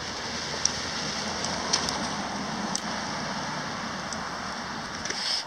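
Rain falls on a street in Westwood as a continuous, even hiss with faint scattered drops tapping on surfaces, and no voices are heard.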